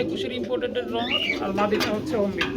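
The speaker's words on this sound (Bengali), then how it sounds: "আরেকটা জোড়া কবুতর রয়েছে বড় এটা কি এক জোড়া টপ কোয়ালিটির মধ্যে রেসার কবুতর" Racing pigeons coo softly and repeatedly close by, mixed with chatter and background talk.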